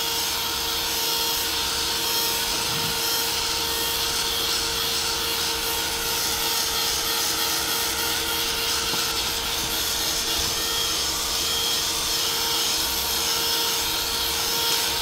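A heat dryer blowing steadily to dry paint on a mixed-media canvas, producing a constant close whooshing whir with no breaks throughout.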